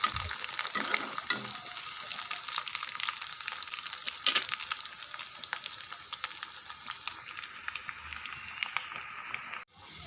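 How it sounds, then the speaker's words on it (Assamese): Tempered dal sizzles steadily in a pan, a close, continuous crackle of frying with small pops, and then it stops abruptly near the end. "দালিখিনি চম্ভাৰ মাৰি দিলোঁ"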